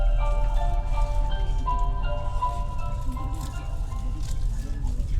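A short melodic departure chime plays at a Japanese Shinkansen bullet train platform, its steady tones ringing out over constant low station rumble and background noise.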